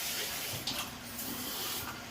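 Plain water poured into a stir-fry sauce with shrimp and vegetables, a steady close splashing rush lasting a couple of seconds, with faint talk underneath.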